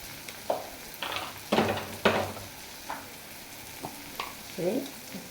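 Mustard paste with chili powder, cumin and coriander powder is stirred in a pan, giving a few scattered scrapes and soft sizzling bursts against a quiet kitchen background.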